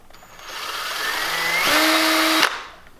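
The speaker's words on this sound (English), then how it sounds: "Then you'll take your 3 30-second drill bit again and drill a pilot hole" A power drill spins up and bores a pilot hole about halfway into wood with a small drill bit, a loud, close whine that climbs, strains under load, then stops abruptly.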